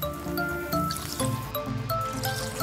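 Club soda is poured gently over a wine-stained fabric tablecloth, making a close, soft trickle with irregular drips and splashes in uneven bursts.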